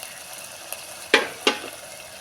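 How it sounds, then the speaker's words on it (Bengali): Fish head chechki with boiled potato and chana dal bubbling in a pan, a quiet steady simmer with two sharp clinks of a utensil against the pan. "আমি ছেঁচকিটা দিয়ে দিয়েছি, আর ফুট ধরেছে"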